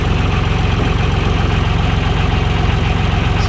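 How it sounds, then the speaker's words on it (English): A John Deere 2155 tractor engine idles steadily up close, a loud, even diesel throb with a constant low pulsing rumble and no talking. "I got the RPM set to that right now because that's more of like an idle speed for me."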